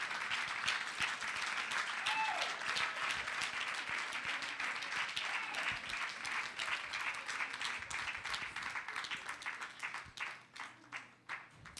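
Warm round of applause from a summit audience in a hall at a women-in-sport event, loud and continuous before thinning into scattered claps and fading out near the end.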